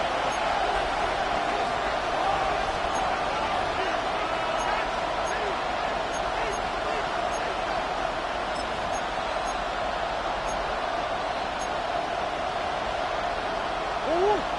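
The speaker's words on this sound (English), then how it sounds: "The noise very loud from the crowd." A loud, continuous roar from the crowd fills a stadium at an American football game late in the fourth quarter, a dense wash of cheering that holds steady throughout, with an announcer's voice faintly woven in.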